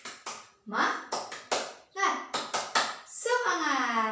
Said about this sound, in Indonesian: Yeay, tepuk tangan.